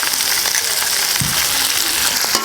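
Garlic sautéing in hot oil for prawn manchurian makes a loud, close crackling sizzle, with a short clunk of a spoon or pan midway through the brief burst.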